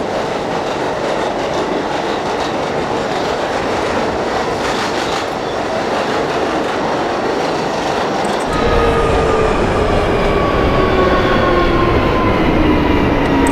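Steady rumble of an F subway train run in the OpenBVE simulator on a snowy route to Lefferts, continuous and loud with a rise in intensity partway through and faint tonal whines from the motors.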